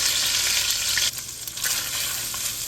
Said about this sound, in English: Get it into that oil. Let it start toasting up, and then we're going to start breaking up our sausage here.